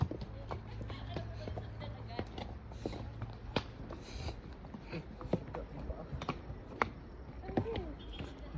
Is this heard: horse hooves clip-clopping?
yes